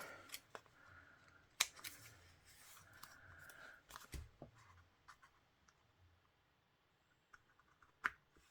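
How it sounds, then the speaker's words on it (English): Scissors snip through paper to trim corners during a papercraft project. Several sharp, close cuts and snips come with light rubbing and handling noises, then fade to quiet with one last click. "And then I'll just cut those corners."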